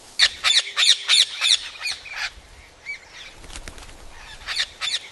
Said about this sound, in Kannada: ಈ ಗಿಳಿಗಳು ಈ ಔಷಧಿ ವಾಸನೆಗೆ ಯಾವ ರೀತಿ ಓಡ್ತಾ ಇವೆ ನೋಡಿ